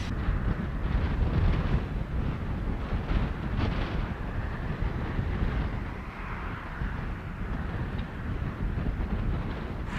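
A strong headwind buffets the microphone on a golf course beside a par 3 hole, a loud, continuous roaring rush with uneven gusts that dip briefly near the middle before surging again; no voices.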